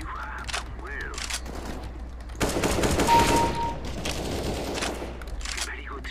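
Gunfire in a CS:GO deathmatch video game comes as a loud burst of rapid shots in the middle, set against a steady game background, with a person talking.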